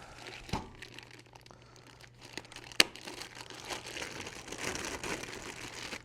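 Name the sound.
plastic packaging crinkling while unboxing Pioneer amplifier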